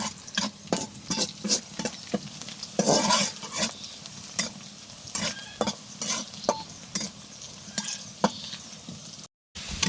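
Onions frying in a pan for lata, a Barisal dish, sizzle steadily while a spoon scrapes and stirs in repeated sharp strokes, close and fairly loud, with a brief silent gap near the end.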